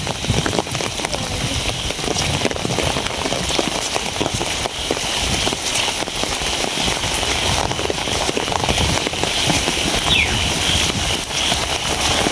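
Heavy rain pounds steadily in gusty wind, a thick, unbroken hiss of drops striking surfaces close by, loud and constant throughout with no voices.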